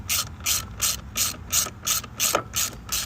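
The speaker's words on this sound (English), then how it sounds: "So I got my 10 and my 12 for my little ratchet." A small ratchet wrench turning a 10 mm bolt while fitting a camp kitchen slide into a Rivian R1T gear tunnel, giving close, crisp rhythmic clicks, about nine strokes in steady succession.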